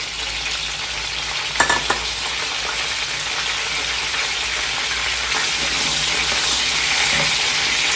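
Whole garam masala spices tipped into hot oil for chicken, a dense, loud, continuous sizzle with a brief burst of crackling early on, close up with no talk.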